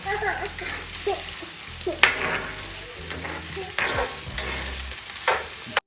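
Chicken fried rice ingredients sizzle and fry in a hot pan while a utensil stirs and scrapes through them, giving steady crackling with sharp scrape accents, a voice talking over it.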